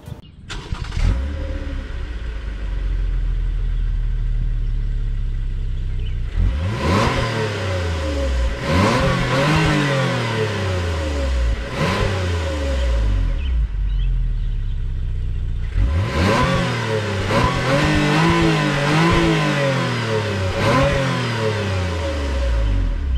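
A 2021 Toyota Camry XSE V6 engine is revved twice from idle, each rise a loud, climbing roar that falls back, with a brief pause between the two bursts and no talking.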